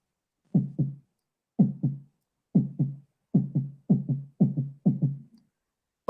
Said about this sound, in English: All I can hear is my heartbeat.